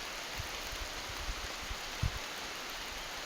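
Steady rain falls outdoors, a broad hiss of drops with a few soft low thumps of nearby drips, no voices.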